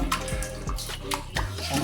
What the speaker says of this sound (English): Doing cleaning of the inside of the tank using sponge and water